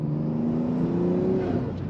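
A tuned BMW M3 G80 rated at 700 hp holds a loud, steady exhaust drone that rises slightly in pitch, heard up close inside the car with no talking.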